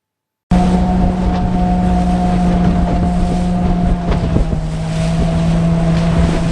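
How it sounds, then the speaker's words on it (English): A speedboat engine drones loudly and steadily close by, with a strong low hum and a sustained tonal whine, mixed with wind buffeting on the microphone. "Speedboat. Speedboat."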